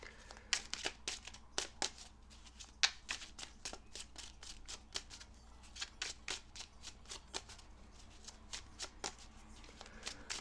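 A pre-shuffled tarot deck being handled as cards are drawn, a steady stream of crisp card snaps and riffles, close and fairly quiet, with no talking.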